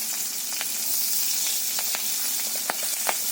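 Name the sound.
onion and spices frying in oil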